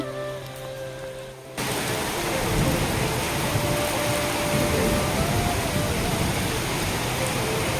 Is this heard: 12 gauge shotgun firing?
no